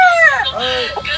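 A Tornado hatch gamefowl rooster at Shishin farm gives a loud, close crow that rises and then trails off, lasting about a second.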